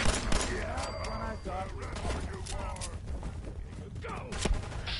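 Gunshots in Fallout 4 crack out in several sharp bursts over busy game noise, with the loudest reports near the start and again toward the end, set amid a dense, cluttered mix.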